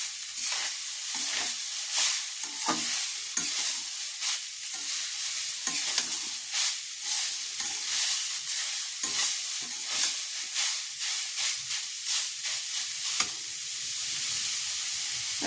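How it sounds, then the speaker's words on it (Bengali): Grated radish frying in hot oil for mooli paratha filling, with a loud, steady sizzle and continuous stirring and scraping of the pan throughout, no talking. "ওই মূলোটা আমি এই তেলের মধ্যে দিয়ে দিচ্ছি। আবারও ভালো করে নাড়াচাড়া করে নেব।"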